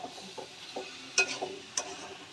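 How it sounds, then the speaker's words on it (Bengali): Fried potatoes and boiled chickpeas being stirred into a cooked spice masala in a pan, a soft wet sizzle under a few sharp spatula scrapes and knocks, close and moderately loud, no speech. "এবার আমি ভেজে রাখা আলুটা দিয়ে দেব, আর সেদ্ধ করা ছোলাটাও আমি এখানে দিয়ে দেব। এবার ভালো করে মিক্স করে নেব।"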